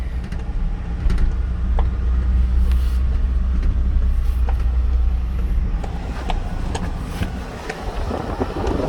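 A 2007 Ford Ranger rolling along on wide wheels with spacers, a steady low road rumble and engine drone heard from inside the cab, with some wind noise and light clatter throughout.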